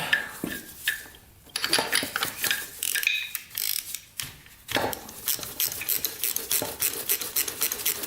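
A ratchet wrench loosens and removes the spark plug from a dirt bike engine, with bursts of quick clicking and metallic rattling near the mic, broken by short pauses.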